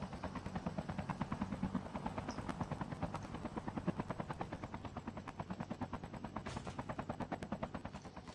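A helicopter in the mobile shooter game Call of Duty: Mobile thumps steadily with its rotor chop, while rapid gunfire crackles over it throughout.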